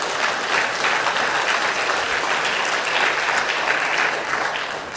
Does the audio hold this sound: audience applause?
yes